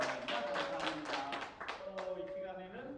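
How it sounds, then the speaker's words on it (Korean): Applause from an audience at a church graduation gathering, honoring the top graduate's speech: a dense, steady patter of many hands clapping for about three seconds, with voices mixed in. "다시 한번 큰 박수를"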